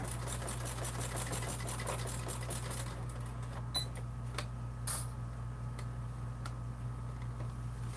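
A sewing machine stitches through a thick stack of bag layers at a lengthened stitch, running as a steady rapid mechanical chatter for about three seconds, then slowing into quieter, intermittent needle strokes and clicks.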